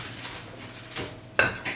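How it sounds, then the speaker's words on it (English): Bath bomb mixture is scooped into a B-3 Bomber press mold with soft scraping and a sharp metallic clink near the end, close and alone. "So I'm going to scoop it in my mold."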